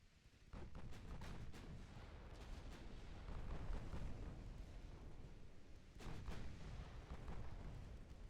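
Warship guns firing high explosive shells in the naval game Ultimate Admiral Dreadnoughts, heard as a dense, continuous barrage of heavy booms with one brief lull before the salvos pick up again.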